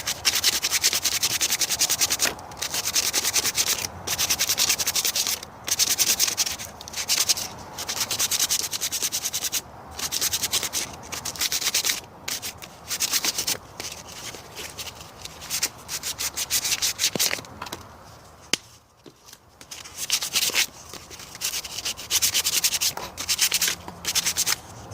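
Dragon eggs being sanded and scratched on their surface give a rough, close rubbing sound in repeated strokes with brief pauses, continuing steadily and alone throughout.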